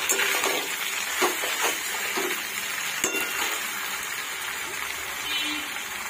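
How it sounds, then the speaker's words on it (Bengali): Mutton and fried potatoes sautéing in a pan for a mutton curry: a steady loud sizzle with scattered scraping and clinking of a utensil stirring against the pan. "ভেজে রাখা আলুগুলো দিয়ে দিলাম। মাংসর সাথে কষতে থাকবো আলুগুলো।"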